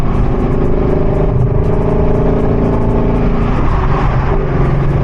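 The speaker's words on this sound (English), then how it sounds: "You can hear enough of the V8." A Shelby GT350's V8 engine rumbles steadily close by as the car drives, with a deep, continuous throaty drone and slight shifts in pitch.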